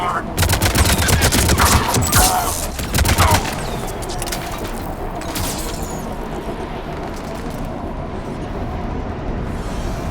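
Dense battle gunfire from the video game Mass Effect 3, loud rapid bursts and volleys in the first few seconds, then a steady rumbling din of combat with scattered distant shots, and voices faintly mixed in.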